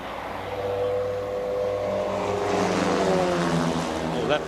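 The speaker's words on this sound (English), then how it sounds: "Oh, that plane is very low now." A plane flying low over a rugby stadium during a New Zealand versus South Africa match, a loud steady engine drone that swells as it passes, with crowd noise and commentary underneath.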